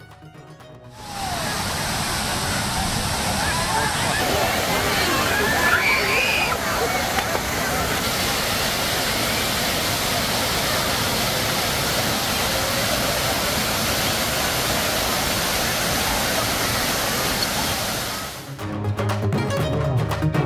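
Broad, steady roar of water cascading like a waterfall from Kodiveri dam, loud and continuous for most of the stretch before cutting off near the end.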